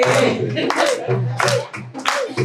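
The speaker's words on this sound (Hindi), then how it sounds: "ताली बजती रहनी चाहिए" An audience claps at a cultural programme at the VNKC Punjabi Bagh branch, with a few quick bursts of hand claps mixed under loud singing or chanting voices.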